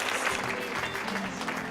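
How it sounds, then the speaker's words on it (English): Audience applause for a panel of speakers at a science event, a steady dense clatter of many hands that holds at an even level for the whole short stretch. "Please, one more round of applause to every single one of our panelists."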